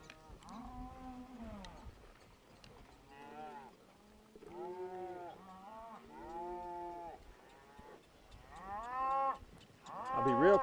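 A cow and her calf moo repeatedly on a ranch during horseback cattle handling, long drawn-out bellows rising and falling in a loose back-and-forth exchange, close and fairly loud, with the last calls the strongest.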